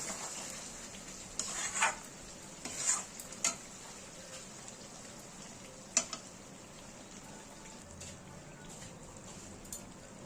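Chicken for Kolkata-style chicken chaap is stirred in a pan after a little water goes in, giving a soft steady sizzle broken by a few clinks and scrapes of the spoon against the pan.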